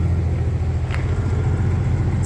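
A Porsche 993 idles steadily with the air conditioning running, a low constant engine rumble heard from inside the car with no speech.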